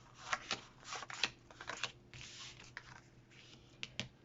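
Playing cards handled and spread out on a surface, soft close riffles, slides and light snaps in scattered bursts, quiet overall with a faint low hum underneath.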